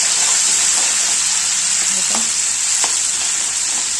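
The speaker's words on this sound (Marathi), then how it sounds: "मस्त परतू द्यायचा" Red masala sizzles steadily in an iron tava for a spicy river vam fish curry, a constant hiss with a few soft scrapes and clicks of stirring.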